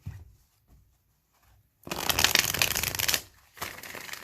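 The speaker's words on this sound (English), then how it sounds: "looks like they just want one more shuffle." Tarot cards are shuffled by hand during a reading, a quiet pause giving way to a dense, crisp riffling burst of about a second and a half, then a shorter second flurry.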